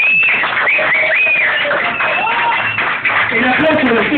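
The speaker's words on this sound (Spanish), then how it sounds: "Chicos, un aplauso grande," Crowd clapping and cheering at a live show, loud and sustained throughout, with voices and shouts mixed into the noise.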